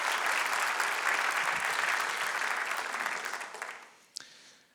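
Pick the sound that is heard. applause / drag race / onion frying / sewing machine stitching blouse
applause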